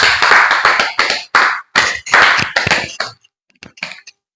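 An audience claps in welcome for a bhajan singer at a devotional evening gathering, a quick burst of loud, close hand claps that thins out into a few scattered claps.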